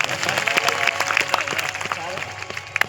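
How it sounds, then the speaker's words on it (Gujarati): An audience at a temple consecration festival for Rameshwar Mahadev in Bhadath village claps steadily to honour a singer, a dense patter of hands with a voice mixed in. "તો પ્રતિષ્ઠા મહોત્સવ નિમિત્તે તેમના સન્માન માટે આપણે સૌ એકવાર જોરદાર તાળીઓના ગણગારથી વધાવી લઈશું"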